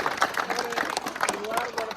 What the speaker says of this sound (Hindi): एक बार जोरदार तालियां गुरुजी के लिए।